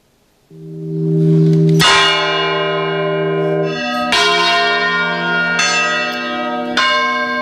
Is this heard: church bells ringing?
yes